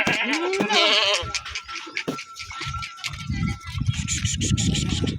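Goats bleat on a farm, with one loud wavering bleat near the start followed by rougher low calls and more bleats from the herd, all close and clear over background noise.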